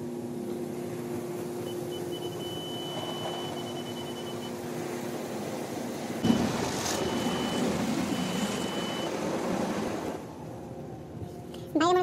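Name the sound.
automatic car wash machinery running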